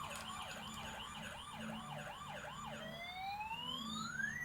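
A small electronic toy ambulance siren wails in quick rising-and-falling cycles, then sweeps up in long slow glides, fairly close and alone.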